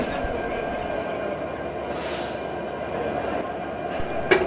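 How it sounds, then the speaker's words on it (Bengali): A 6630 series diesel electric locomotive coupling onto a train gives a low, continuous rumble with a few short metallic hisses and clanks, one sharper knock near the end, heard from close by without talk. "আমাদের লোকোমোটিভটি ট্রেনের সাথে সংযুক্ত হয়ে গেল"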